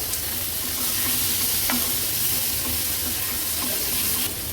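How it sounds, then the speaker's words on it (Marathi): Prawns fried and stirred in an onion-tomato masala give off a steady, close sizzle for the whole stretch, with occasional scrapes of a spoon against the pan. "टोमॅटो मिक्स करून घेतलं का हे बघा पाव किलो कोलब्या आपण घेतल्या होत्या ह्या ऍड करूया व्यवस्थित ह्या मसाल्यामध्ये आपल्याला ह्यांना मिक्स करून घ्यायचे"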